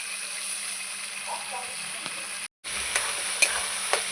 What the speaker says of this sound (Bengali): ভালো করে মশলাটা আলুটা একসাথে কষিয়ে নেব আমি আর একটু জল দিয়ে কষাবো